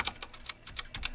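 Keys pressed one after another on a budget LEOBOG K23 mechanical keyboard give about eight crisp, clacky strikes in a fairly even rhythm. They are close and clear, with no talking.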